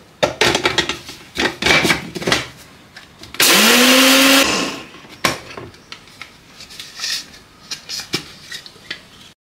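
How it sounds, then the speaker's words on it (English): An electric grinder whirs loudly for about a second as it grinds flaxseed into meal, with clattering, tapping and handling noises from the kitchen before and after. "So here is our flaxseed, and we put it in the grinder"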